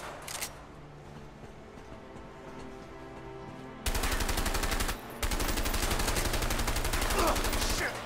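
Rapid automatic gunfire in the video game A Way Out, loud sustained bursts of machine-gun fire following a quieter stretch, with a brief pause between bursts.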